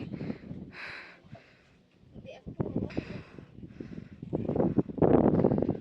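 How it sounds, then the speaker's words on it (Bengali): Gusty wind on a hilltop at Parasnath rushes and roars across the microphone, rising and falling, while someone speaks over it in short bursts. "হাওয়ার আওয়াজে আই থিঙ্ক বুঝতে পারছো কতটা টপে আমরা"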